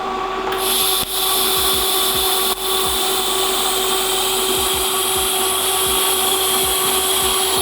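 Fusion tacks from a new welder set near 150 on metal, a steady broadband hiss with faint tonal hum and a few brief crackles, continuous and fairly loud with no talk.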